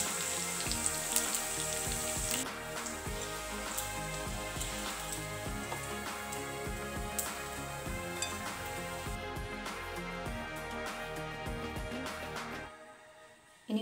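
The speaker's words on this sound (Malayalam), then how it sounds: "അപ്പോൾ അതാ ബീഫിൻ്റെ 2 ഭാഗവും നന്നായിട്ട് ഫ്രൈ ആയി കിട്ടിയിട്ടുണ്ട്." Pieces of beef cutlet fry in hot oil, a loud, steady, dense sizzle with rapid crackling pops that runs continuously and cuts off abruptly near the end, with no talking.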